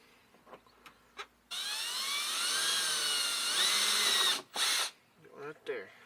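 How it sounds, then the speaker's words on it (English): A power drill bores a hole through a Jeep Wrangler stock fender, a close, loud steady whine with a rising pitch lasting about three seconds, followed by a short second burst, with faint taps and handling noises around it. "Drill a hole there."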